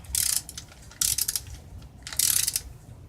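A torque wrench ratchets in three quick bursts of rapid clicking, close and crisp, as clutch bolts are tightened on a 2013 Kawasaki ZX10R, with short pauses between strokes.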